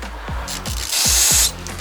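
Parts from a Holley 650 double pumper carburetor are being cleaned with spray, giving one close, forceful hiss of about half a second. Light tapping and handling clicks come before it.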